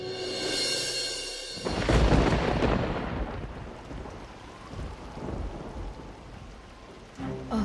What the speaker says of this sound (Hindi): सभी जगह भारी बारिश हुई है